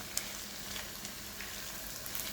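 Rice and almonds roast dry in a pan for pilaf, giving a faint, steady hiss and soft sizzle with occasional light ticks and scrapes, close and quiet without talk.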